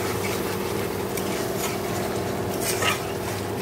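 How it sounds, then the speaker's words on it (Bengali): Spice mix with salt, turmeric and sugar is sautéed in a pan, a close, continuous sizzling hiss with soft stirring scrapes and no voices. "এবার ভালো করে মশলাটা কষে নেব।"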